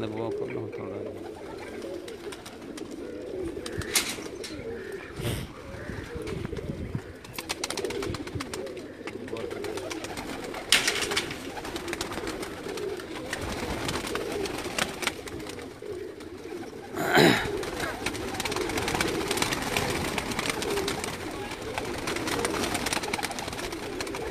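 Breeder pigeons coo repeatedly in low, throaty phrases, fairly close, on a rooftop while someone talks over them and occasional clatters sound.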